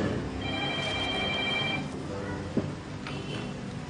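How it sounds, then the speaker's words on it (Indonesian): A telephone rings indoors with a steady electronic trill lasting about a second and a half. A brief knock and faint shorter tones follow, all at moderate volume. "Roy, ada telepon."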